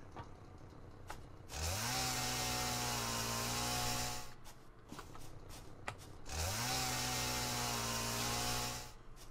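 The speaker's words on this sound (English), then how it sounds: "The chainsaw clears everything in a short area like that." A chainsaw in the video game Satisfactory cuts through plants in two long bursts, each spooling up to a loud, steady drone for about three seconds before cutting off, with clicks in the gaps.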